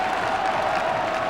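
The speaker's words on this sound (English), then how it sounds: "this Bristol crowd urging on their 14 men" A Bristol rugby crowd at a 1973 knockout cup match against Coventry, applauding and cheering in a steady, distant wash of clapping and voices.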